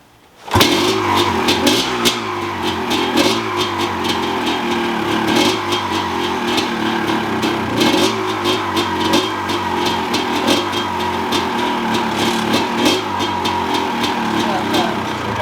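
A 1992 Honda CR250 motorcycle fires up right after a carburetor cleaning, jumping from silence into a loud, close, continuous engine roar with repeated throttle blips and revving for the rest of the clip.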